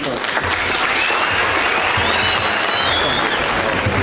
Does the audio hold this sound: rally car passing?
no